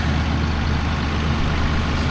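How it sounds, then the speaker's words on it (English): A Massey Ferguson 4710 tractor idles with a steady, low diesel rumble, constant and close with no change in pace. "4710 Massey Ferguson."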